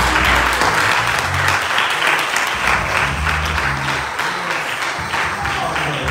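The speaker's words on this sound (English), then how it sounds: "So let us give God a hand," Sustained applause and clapping from a church congregation during a worship service, loud and continuous for several seconds with band instruments faintly underneath.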